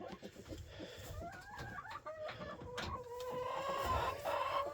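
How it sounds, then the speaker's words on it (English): A Rhode Island Red rooster scratches in a pen, giving soft clucks and rising tonal calls over faint rustling, close but quiet. "So the rooster in there scraping it out."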